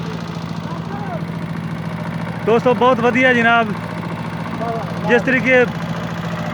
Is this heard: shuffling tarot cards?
no